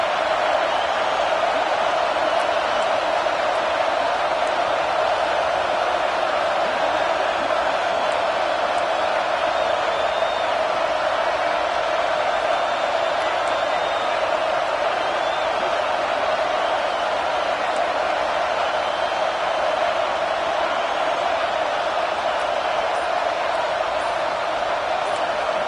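A packed stadium crowd at a Bama versus Ohio State college football game roars in a dense, continuous wall of noise that holds steady throughout, loud and unbroken.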